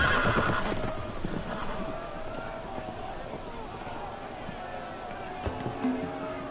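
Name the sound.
horses neighing and running loose, from a video game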